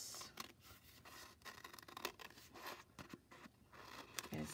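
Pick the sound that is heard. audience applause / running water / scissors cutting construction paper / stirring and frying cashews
scissors cutting construction paper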